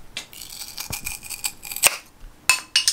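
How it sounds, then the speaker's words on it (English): Metal cutter shears snip close to the microphone, a series of sharp, bright clicks and crunching cuts spaced irregularly, with quiet gaps between them and no talking. "Those are shears. Those are metal cutter shears."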